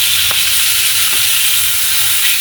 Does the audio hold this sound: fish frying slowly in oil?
yes